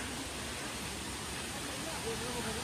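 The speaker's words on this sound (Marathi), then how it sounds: "आणि हा इथे छोटासा धबधबा" A small waterfall beside an old stone-built footpath near dense forest pours in a steady, even rush of water that stays unchanged throughout, with a possible faint voice in the background.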